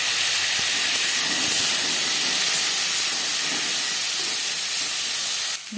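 Raw mango drops into hot oil with dried chilli and panch phoron, giving a loud, steady, close hiss of frying that runs unbroken and cuts off at the very end.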